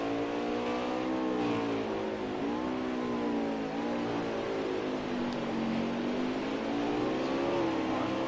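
Race cars in a NARL Cup Series racing video game at Mid-Ohio rev continuously, their engine tones rising and falling through gear changes in a loud, unbroken whine with no talking.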